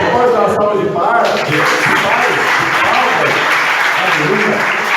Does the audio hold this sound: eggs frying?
no